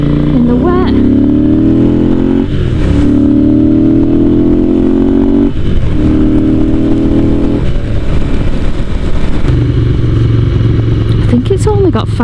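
A Ducati motorcycle engine runs steadily while being ridden on full choke, its droning note shifting in pitch with gear changes and throttle, with a person talking over it throughout.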